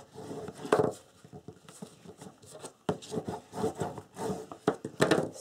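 Wood is burnished by rubbing for a small wooden box, giving close, soft scraping strokes in irregular bursts with brief pauses between them.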